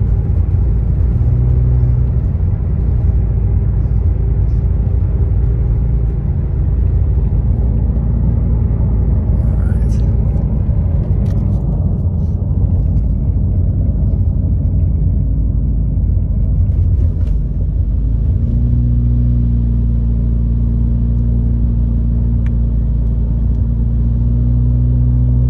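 A car driving on snowy, partly icy roads in Big Bear, California, gives a loud, steady low interior rumble of engine and tyres throughout, with no pauses.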